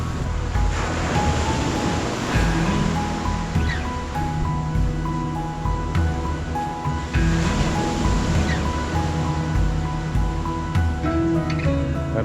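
Sea waves break steadily on a tropical Koh Phangan shore in front of a jungle house, a continuous broad wash of surf with wind noise, no talking.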